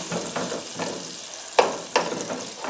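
Food sizzles steadily in a pan of hot butter and oil while being stirred, with a constant close crackle and a couple of sharper clinks of a utensil.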